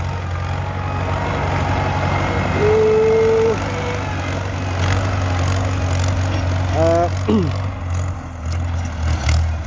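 A Ford 6600 tractor working on filling in a pond, its engine droning in a steady low rumble close by, with a brief voice heard over it.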